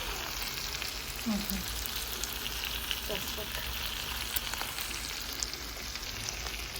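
Chakhokhbili simmering in a pan just after a splash of water goes in, giving a steady broadband sizzle and bubbling with a few soft stirring knocks, close by, and a brief spoken word over it.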